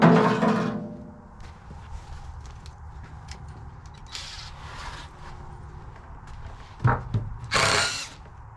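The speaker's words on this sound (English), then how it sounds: "You need to drill the holes for it?" Short bursts of a power drill whirring while building a pig shelter, separated by quiet gaps, with scattered knocks and handling noises; a louder, longer burst near the end.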